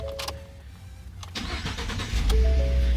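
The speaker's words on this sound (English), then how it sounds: "so now let's see if it starts the car" A 2015–2018 Ford car engine cranks briefly and starts, then settles into a steady close idle after a few clicks and chimes.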